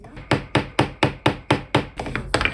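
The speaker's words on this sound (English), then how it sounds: "So I'm just using a hammer." Steady hammer blows, about nine sharp strikes at an even pace, close and fairly loud, the last few quicker and less regular.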